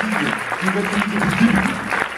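Film festival audience at a post-screening Q&A for Girls with Balls claps warmly in a close, full burst, with a voice talking over the applause.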